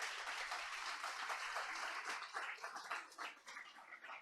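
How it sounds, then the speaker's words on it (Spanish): Congregation applauding during a Sunday church service, a dense, fairly quiet patter of clapping that swells and thins toward the end, with no speech over it. "Denle un aplauso al Señor"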